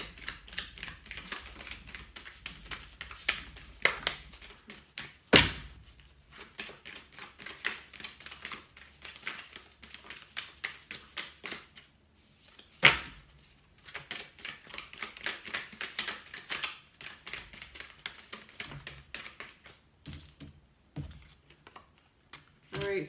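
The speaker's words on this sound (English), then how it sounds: "so I'm going to pull some oracle cards for you guys." Oracle cards are shuffled and handled for a tarot reading, close rapid papery flutters and clicks in bursts, with a couple of louder slaps as cards are set down.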